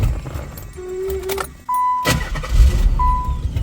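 Nissan 300ZX started from a jump start: a key chime and a brief crank, then the engine catches and idles roughly up close while warning chimes sound over it.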